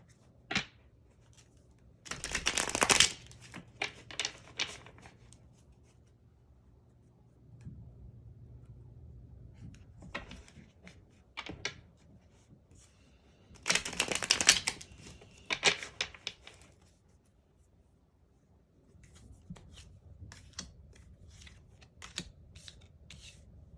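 Tarot cards are shuffled in two quick riffling bursts separated by quiet stretches with faint taps and rustles.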